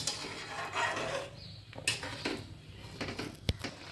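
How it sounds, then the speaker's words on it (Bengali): A pot of prawn curry stirred with a utensil, producing soft scraping, a few light clinks against the pot and a sharp knock near the end, close and fairly quiet with no talk. "সেই জন্য ভালোভাবে নাড়িয়ে নিচ্ছি।"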